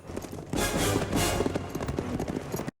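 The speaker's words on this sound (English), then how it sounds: "Look at those horses go." Horses gallop in Back to the Future Part III, their hooves beating a quick, steady clip-clop that stays loud and close from start to finish.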